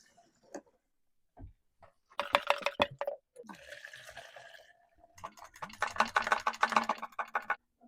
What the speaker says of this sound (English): I'm gonna pour a little bit more fuel in there just to give it a rinse.